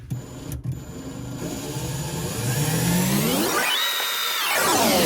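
A power drill whines steadily while drilling through a race boat's hull, its pitch rising as it bites in, then dipping and climbing again; loud and close, with no talking.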